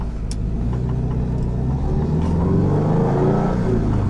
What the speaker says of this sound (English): Actually, really cool sound. The exhaust they have is really cool.